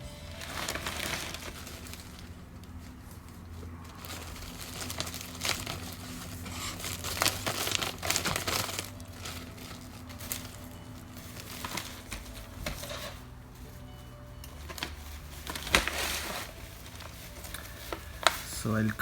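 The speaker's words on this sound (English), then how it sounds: "So I'll fill and put more soil inside this bag." Garden soil being scooped and poured into a hardy plastic rice bag for growing tomatoes, with crinkling plastic and gritty pattering in irregular bursts, heard up close and faint.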